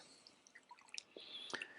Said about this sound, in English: We put it in warm water, not hot water.